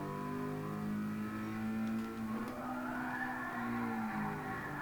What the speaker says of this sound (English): Trying to drift it a little bit